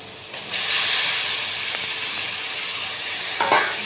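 Bombay duck (lote fish) frying in a spice mix gives a steady, fairly loud hiss and sizzle, with a brighter surge near the start and a short stirring burst near the end; no voices.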